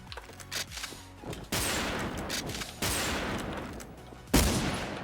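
Gunfire in the online shooter Wolfteam: rapid automatic bursts with sharp onsets, three distinct volleys spaced over a few seconds, loud and close, with the last burst heaviest.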